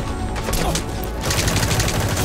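Dense gunfire from the video game Metal Gear Solid 5 keeps up a loud, steady rattle of overlapping shots with no clear gaps, growing a little heavier in the second half.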